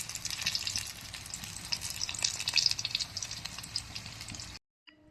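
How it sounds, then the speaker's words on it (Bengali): Slices of spiny gourd (kakrol) fry in hot oil with a steady, busy sizzle, close and moderately loud, with fine crackles popping throughout before the sound cuts off abruptly near the end. "এখানে বন্ধুরা দেখুন কাঁকরোল ভাজা হচ্ছে।"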